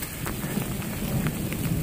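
Heavy rain pours steadily during a thunderstorm on the Appalachian Trail, with a deep, rumbling roll of thunder underneath, loud and continuous.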